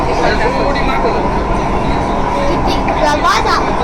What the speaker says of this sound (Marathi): ही आहे मेट्रो.